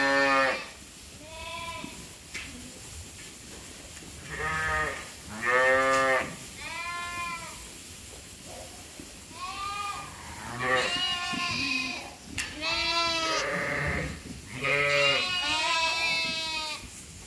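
Ewes and lambs in a barn pen bleat repeatedly, some calls near and loud, others fainter, overlapping across a steady background hum of the barn.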